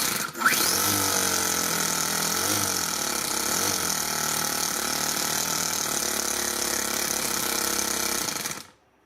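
Small glow-plug engine starting, then running at a loud, steady, buzzing idle for several seconds before cutting off abruptly.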